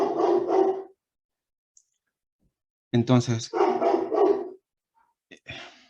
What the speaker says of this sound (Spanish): está ladrando mi perro